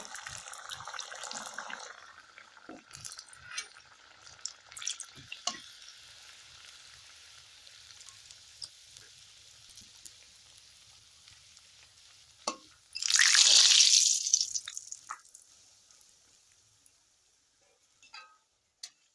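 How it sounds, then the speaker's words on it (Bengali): Pea-stuffed kachori frying in hot oil, a soft steady sizzle that surges into a loud, bubbling burst when a fresh piece goes in, then settles back to a quiet crackle with scattered small ticks. "তেলটা হলে কি করব একে একে ছেঁকে নেব আঁচটা বেশি বাড়ানো চলবে না"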